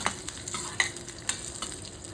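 Chopped cashew nuts with mustard seeds frying in hot oil in a pan for kuli paniyaram batter, a steady close sizzle with a few sharp pops and stirring clinks, no voices.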